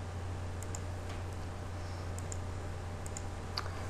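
Quiet, scattered clicks from a computer keyboard as table and column names are typed, faint over a steady background hum.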